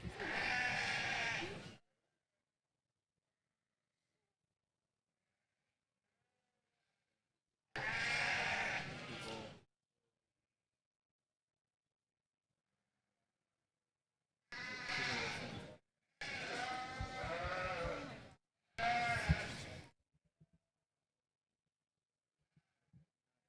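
Five loud, close bleats from sheep ewes at a livestock show in San Antonio. The calls come singly and in a quick cluster, separated by long stretches of near silence.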